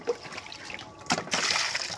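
Running water splashing and trickling during washing up, with bursts of splatter and a steadier rush toward the end, close by with no speech heard.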